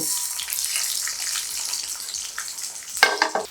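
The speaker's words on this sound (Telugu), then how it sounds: "ఆ నూనె కొద్దిగా కాగిన తర్వాత వెల్లుల్లిపాయలు మినప్పప్పు" Garlic and urad dal fry in hot oil with a close, hissing sizzle broken by small pops and stirring scrapes, and a sharper burst of crackle near the end.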